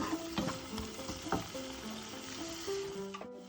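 Water hits hot oil in a pan while making egg curry, giving a loud, crackling sizzle that stays close and continuous, with some stirring and scraping noises mixed in.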